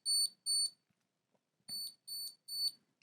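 An Anker Prime fast charger sounds its Bluetooth Find My Device alert: bursts of sharp, high electronic beeps in a repeating pattern, two beeps, a pause, then three more, loud and close with no talking.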